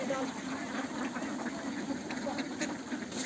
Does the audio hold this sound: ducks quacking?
yes